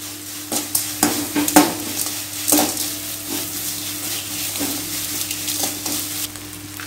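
Grated coconut (half a shell's worth) sizzles in a hot pan over a full flame while a spoon stirs and scrapes it in irregular clinks, the frying hiss steady beneath the knocks.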